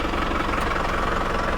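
A large farm tractor engine runs steadily in a field in Turkey, a loud, continuous low rumble with a rough knocking texture and no pauses or speech.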